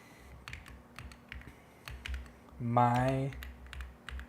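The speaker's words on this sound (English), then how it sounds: "This is going to be tough to type." Typing on a computer keyboard, a steady patter of close key clicks running throughout, with a voice speaking briefly partway through.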